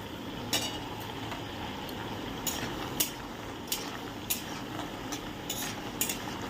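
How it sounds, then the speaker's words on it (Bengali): Bori, small lentil dumplings, fry in a pan with a soft, steady sizzle, broken by sharp clinks of a utensil against the pan every second or so. "এই বড়ি কটায় ভাজা বসিয়ে দিলাম"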